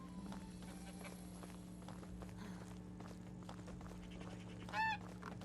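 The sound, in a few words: geese honking in video game Medieval Dynasty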